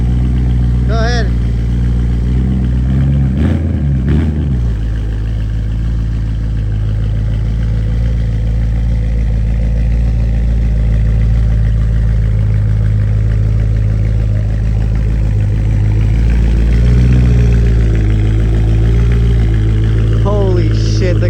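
A BMW E92 M3 fitted with a Bomiz valved exhaust runs loud and close, with a deep steady idle and a brief throttle blip early on and another swell near the end, while voices speak over it.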